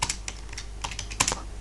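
A command being typed on a computer keyboard, a quick run of close, crisp key clicks in irregular clusters over a low hum.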